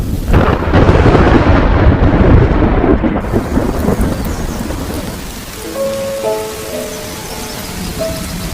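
Heavy rain pours steadily with rumbling thunder early on, then the downpour eases into softer pattering with a few faint tones.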